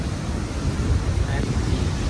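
Ocean waves breaking on a shore: a continuous broad rush of surf with steady wash and rumble, loud and close, mixed with wind noise on the microphone.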